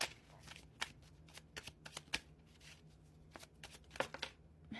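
Oracle cards shuffled by hand, a series of quick crisp riffles and slaps in irregular bursts, close and clear against a quiet room.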